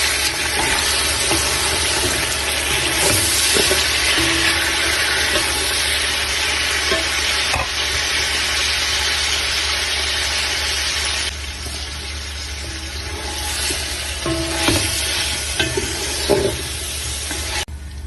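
Garlic being stirred into browned onions in a frying pan, a loud steady sizzle with occasional spoon scrapes and knocks, easing a little partway through.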